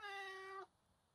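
A single clear cat meow, close and loud, holding steady for about half a second before cutting off into quiet room tone.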